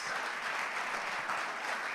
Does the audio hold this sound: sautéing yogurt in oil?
no